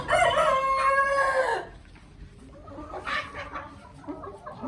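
A Black Australorp rooster crows loudly close by, then the sound drops to quieter clucking and faint crowing from other birds further off on a desi chicken farm.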